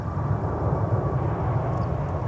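Jet airliner taking off from runway 12 left at Minneapolis airport, a steady low engine roar holding loud and continuous throughout with no voices.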